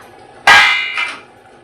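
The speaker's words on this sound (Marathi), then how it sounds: "आपण आता झाकण उघडून बघूया." A metal lid comes off a pot of cooking chicken with a single sharp clang that rings briefly, followed by a lighter second clink, close and loud in an otherwise quiet kitchen.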